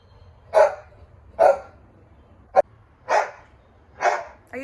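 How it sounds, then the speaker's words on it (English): A dog barks five times in a slow, irregular rhythm, loud and close, with quiet background between barks. "Why are you always barking?"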